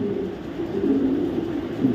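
A female racing pigeon coos softly in low, steady murmuring tones, close by with faint background hum and no talk.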